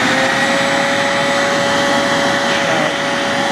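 A roadside-salvaged shop vac runs steadily and loudly the whole time, a constant whining motor drone with a strong steady tone and rushing airflow, alone without any talk.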